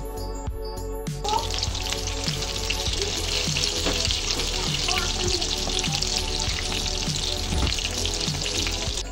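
Chicken cheese kebabs, shaped pancake style, fry in a pan with a steady, loud sizzle that runs the whole time, broken by soft, regular low thumps.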